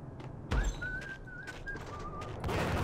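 An enemy whistling a tune in the video game Max Payne, a thin wavering melody of several held notes under muffled game ambience, with a short thud near the start.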